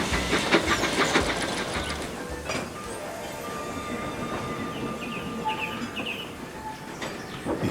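Animated steam engine shunting coaches into place at a station, with hissing steam and rattling railway cars, busier and louder at the start before settling into steady background hiss with faint bird-like chirps.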